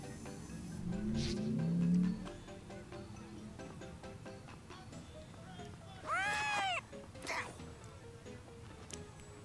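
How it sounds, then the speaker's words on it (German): Cat meows in the video game Tales of Xillia 2, a few short mewing calls standing out over game music and ambience, with a louder, clearer meow near the middle. "Eine Katze für dich."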